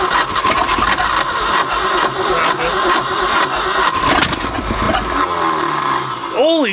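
An abandoned Ford F250 that has sat for 26 years cranks and fires, its engine running rough and loud, with a voice rising near the end.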